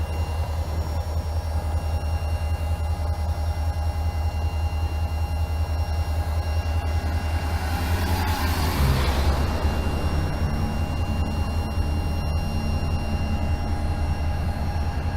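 A train rumbles steadily and slowly at a street crossing without signals, a continuous low heavy drone with a swelling burst of rolling and brake noise partway through as it eases to a stop, close by.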